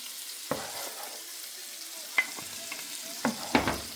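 Food frying in a pan with tomato sauce gives a soft, low sizzle, broken by a few sharp clicks and knocks from a utensil spread across the stretch.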